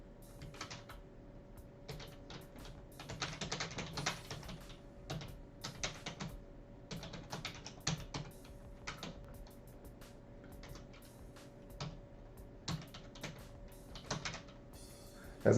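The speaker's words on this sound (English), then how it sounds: "As I type this in and spread this on Facebook" Steady bursts of typing on a computer keyboard, quick irregular clicks in clusters with short pauses, close and fairly quiet over a faint constant hum, no voices.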